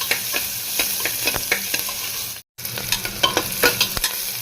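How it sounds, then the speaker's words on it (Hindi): Onions frying in a pan for a soybean and potato curry give a loud, steady sizzle, with frequent stirring scrapes throughout and a brief dropout midway. "पियाज भाजवा"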